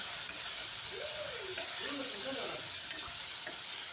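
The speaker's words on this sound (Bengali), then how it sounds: "গ্যাসের হিটটা ফুল রেখেই আমি শিমগুলোকে ফ্রাই করছি" Flat beans frying over full gas heat give a steady, close sizzle with a few faint stirring scrapes and no voices.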